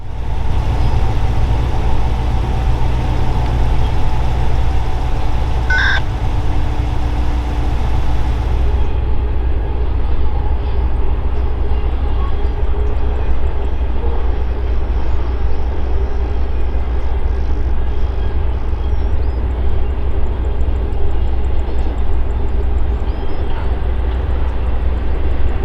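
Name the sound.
BNSF stack train passing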